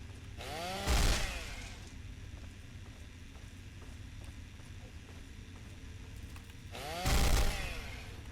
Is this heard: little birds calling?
no